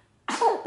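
A single close, sharp sneeze bursts out after a moment of near silence, ending in a short voiced tail.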